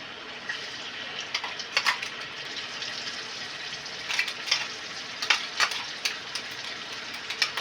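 Onion, garlic and ginger paste frying in hot oil for a banana flower and prawn curry, a steady close sizzle with irregular crackling pops throughout.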